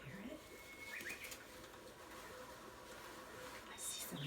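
Birds calling from trees in a forest setting, with soft coo-like notes and occasional whistled calls over a steady outdoor background hiss, a small stream nearby.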